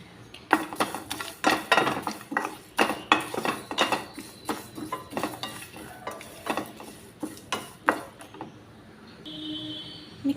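Cumin, spices and dry coconut being dry-roasted in a pan for chicken pulusu, heard as a close, irregular series of spoon scrapes and clatters against the pan, with faint sizzling between strokes.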